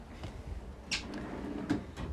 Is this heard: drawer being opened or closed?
yes